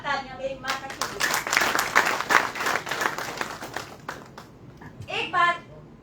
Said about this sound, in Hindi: उनके लिए जोरदार तालियां मेरी माँ का कीजिए।